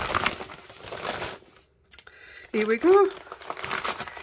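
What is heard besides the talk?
opening a crinkly stamp parcel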